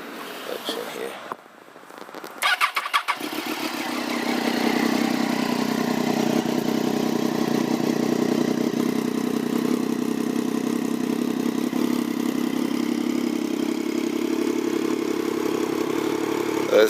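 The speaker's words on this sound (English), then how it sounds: "It got a very unique sound, especially with the 3-cylinder engine with this." A 2006 Triumph Daytona 675 three-cylinder motorcycle engine with an aftermarket exhaust starts with a brief cranking clatter, then settles into a steady, even idle that runs on with a low throbbing hum.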